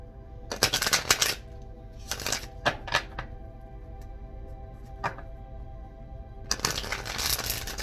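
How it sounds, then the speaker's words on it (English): A deck of oracle cards is shuffled in a quiet room, with several quick riffling bursts separated by short pauses and a final longer shuffle, close and crisp, with no talk over it. "Two more shuffles."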